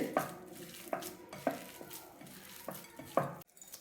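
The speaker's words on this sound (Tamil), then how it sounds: "அந்த ப்ரெட்டை வந்து நல்லா சேர்த்து நம்ம பிசைஞ்சு எடுத்துக்கலாம்" Milk-soaked bread is kneaded by hand for potato nuggets: soft, wet squishing presses arrive in a loose rhythm of about six squeezes, quiet and close, with no talk.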